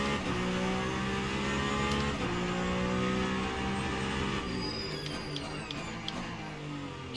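Peugeot 9X8 hypercar racing around Spa in a sim racing game, a loud sustained engine drone with rising and falling revs and other cars whining past toward the end.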